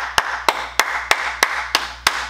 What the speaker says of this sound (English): Clap your motherfucking hands.